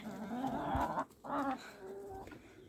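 Backyard hens cluck and make soft, drawn-out calls close by in a couple of short bursts, with quieter clucks trailing off afterward.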